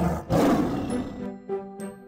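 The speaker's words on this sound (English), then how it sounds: "By day, the tiger gives a sleepy growl." A tiger gives a short, sleepy growl, a rough roaring burst that fades into lower rumbling tones, heard alone and fairly close.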